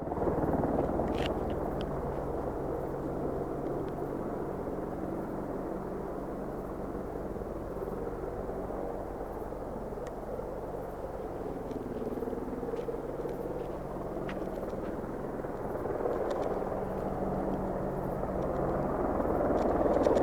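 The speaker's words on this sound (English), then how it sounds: "now the helicopter's over here" Helicopter flying overhead at night, a steady low rumbling drone that holds for the whole stretch, moderately distant and slightly swelling toward the end, with no talk over it.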